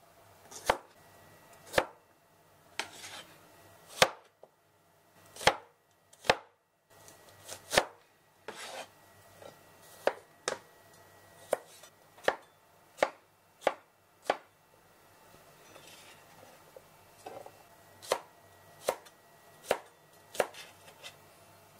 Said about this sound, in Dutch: Nu ook alles in een blokjes snijden.